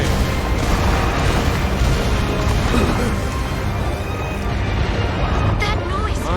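A cannon breaks during a mountain boss fight in the video game Wild Hearts: a dense, loud crashing and booming roar that fills the whole stretch, with game noise layered throughout.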